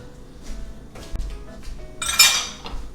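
An egg being mixed in a bowl, with light clinks and taps of a utensil against the bowl followed by a brighter burst of clattering, close and fairly quiet.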